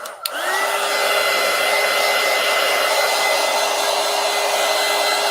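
A hair dryer blows steadily to dry paint on a collage, starting with a brief click and then holding a loud, even whoosh for several seconds with no talking.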